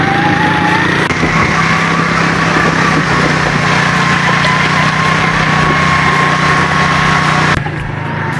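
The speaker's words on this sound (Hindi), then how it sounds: "इस दरिया से मोटरसाइकिल को निकालने लगे हैं" A motorcycle engine runs loud and steady at close range while the bike is taken across a river in a green jungle area, a continuous buzzing drone that drops off slightly near the end.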